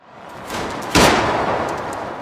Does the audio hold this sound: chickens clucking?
no